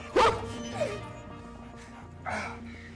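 A dog gives a couple of sharp barks and yips close by, with a short whimpering note between them, set in a quiet scene from a dramatic film.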